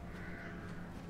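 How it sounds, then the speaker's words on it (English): Birds caw in the video game Resident Evil Village, a few harsh crow-like calls over a dense ambient background. "Okay, that's just regular birds."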